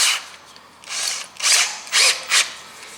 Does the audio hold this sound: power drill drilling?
yes